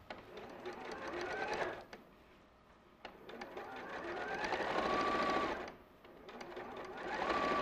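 A sewing machine stitches a seam on a bag in quiet bursts of rapid whirring, three runs separated by brief pauses.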